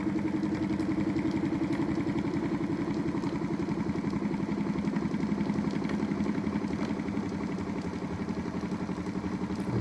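A Newman electric motor running at 400 volts spins steadily with a continuous mid-pitched whir and rattly hum, loud and near, holding an even level throughout with no talk.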